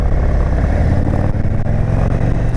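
A 2022 Indian Super Chief Limited motorcycle engine pulls hard under load in a steady, loud, close low rumble, its deep throb holding evenly throughout with no voices.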